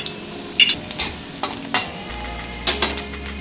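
Garlic frying in a pan gives a continuous sizzle, broken by a handful of sharp scraping stirs and utensil taps at irregular intervals, close and clear with no voices.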